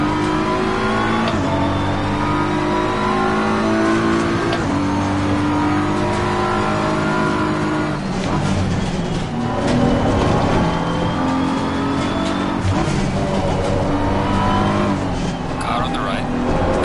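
Engines in a racing video game: a steady loud drone of revving cars with rising and falling pitch as they shift and pass, occasional tyre noise, and a voice talking over the racing.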